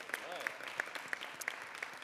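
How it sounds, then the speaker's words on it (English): Brief, fairly quiet applause from an audience at a New York City event, a thin scatter of claps with a voice faintly audible underneath. "That deserves a big round of applause."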